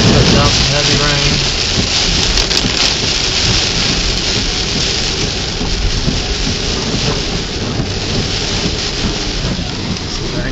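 Thunderstorm downpour near North Lake, Irving, Texas: a loud, continuous roar of heavy rain hammering surfaces, with a faint low rumble beneath and no break across the whole stretch.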